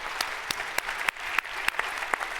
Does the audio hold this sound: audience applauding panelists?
yes